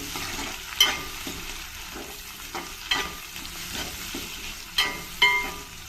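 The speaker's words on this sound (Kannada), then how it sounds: "ಇದನ್ನು ಒಂದು ಸ್ವಲ್ಪ ಚೆನ್ನಾಗಿ ಕೈ ಆಡಿಸ್ಕೊಳ್ತೀನಿ" Capsicum stirred in butter in a pan for fenugreek pulao gives a soft, steady sizzle broken by a few sharp spatula scrapes and knocks, close by, with no talking.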